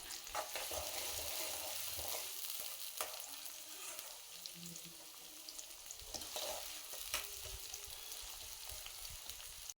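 Onions fry in a pan for bitter gourd fry, giving a steady, dense sizzle and crackle with scattered sharper pops throughout, close up and with no voices.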